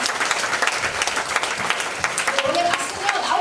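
Applause from an audience welcoming a professor at a lecture event, a dense, continuous clapping that holds steady throughout, with a few voices faintly mixed in.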